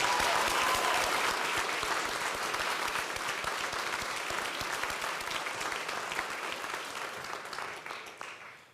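Sustained, dense applause from a large audience at a Saint Mary's University convocation ceremony in Halifax, cheering the graduating class, loud and even before slowly tapering off.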